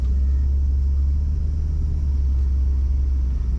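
A 1966 Ford Thunderbird convertible engine pulls under a transmission kick-down, giving a heavy, close, steady low rumble that holds strong with no talking.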